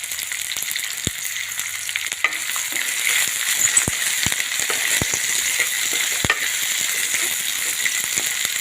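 Carrots, peas, hot red and green chillies, peanuts and capsicum fry in oil in a pan, giving a steady close sizzle with scattered sharp pops and crackles, alone without talk.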